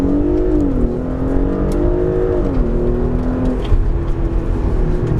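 An Audi SQ5 S-Line 3.0L V6 TFSI roars hard as it launches in sport mode with traction control off, pitch climbing, dipping at a gear change, then climbing again; loud and close.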